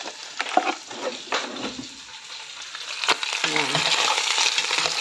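Hot broth ladled over beef cups in a pan, with scraping and clinking of the ladle followed by a steady sizzling pour, close by, with a brief spoken word near the start.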